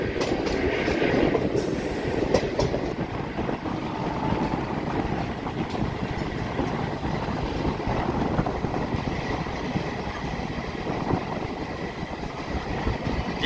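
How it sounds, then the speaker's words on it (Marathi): A diesel locomotive train runs past on a railway, and a loud, sustained rumble comes with dense rhythmic wheel clatter from start to finish, heard nearby with no talking. "काही दिवसानंतर तुम्हाला असे डिझेल लोकोमोटिव्ह दिसणार नाही या रूटवर"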